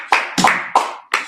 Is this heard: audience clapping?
yes